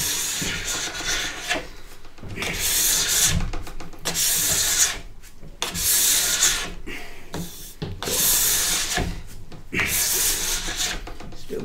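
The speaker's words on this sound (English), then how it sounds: "Still pulling lots of wax off." Wax is scraped off a snowboard base in long repeated strokes, a loud rasping scrape roughly every one to two seconds with brief gaps between passes.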